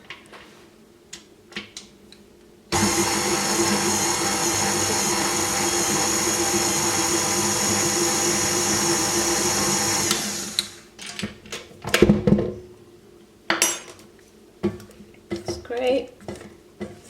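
A stand mixer whirs steadily for about seven seconds as it beats sifted sugar into chocolate buttercream frosting, then cuts off and gives way to clinks and clatters of bowls and utensils.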